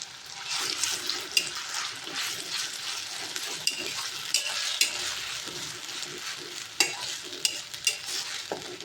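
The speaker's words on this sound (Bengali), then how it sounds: "বাকিটা একটু চামচে করে তেলে দিয়ে দেবো।" Spoonfuls of banana batter fry in hot oil, giving a steady crackling sizzle with scattered sharp pops and spoon clinks throughout, close and moderately loud, with no talking.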